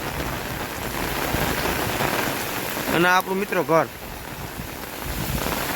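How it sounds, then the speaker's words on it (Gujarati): Heavy rain falls steadily in a waterlogged residential area beside an overflowing canal, a constant loud hiss broken briefly by someone talking. "એટલો વરસાદ ચાલુ છે."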